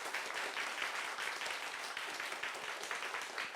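An audience claps steadily for a speaker at the end of a lecture and question session on the division of the Korean peninsula, a dense, even round of applause heard from a distance and somewhat faint.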